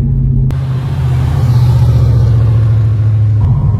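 An Audi RS4 tuned to about 400 hp accelerating under load, a loud, continuous deep engine rumble heard from inside the car, steady throughout with no talk.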